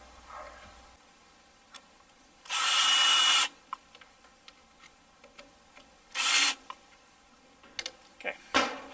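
A power drill whirs in two short, loud bursts while drilling holes to fasten a bracket to a leg of a PVC shade, separated by clicks and small clunks of handling.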